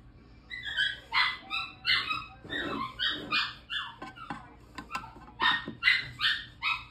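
Indoors, a dog barks at a squirrel it sees through a window. It gives repeated sharp, high barks and yips in quick uneven bursts with a whimpering edge, close and fairly loud.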